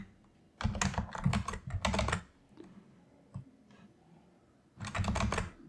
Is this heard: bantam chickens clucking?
no